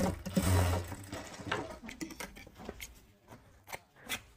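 Sewing machine stitching along the folded edge of a georgette kurti, a short burst of motor whirr and needle clatter near the start, then quieter intermittent handling and snipping sounds close by.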